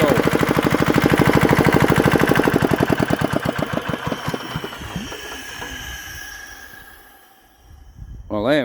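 A Petter diesel compressor engine thumps along in a fast, regular chugging beat, then is shut down, its rhythm slowing and fading into quiet before a brief mechanical clatter at the very end.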